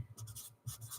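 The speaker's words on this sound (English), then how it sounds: "I'm going to write that down" A pen scratching across paper in short bursts while crochet notes are taken, with a brief pause before the writing resumes. The strokes are close and soft, with no voices.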